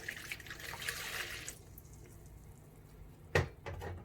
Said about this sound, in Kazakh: Қамырын жасау үшін бірінші су құямыз.